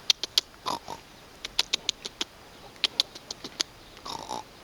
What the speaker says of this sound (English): You got a pretty good oink.